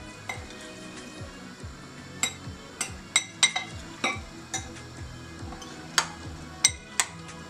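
Spoons clink and scrape against a bowl while egg, beetroot and potato salad is tossed with two spoons, sharp clinks recurring irregularly over soft stirring, close and moderately loud with no talking.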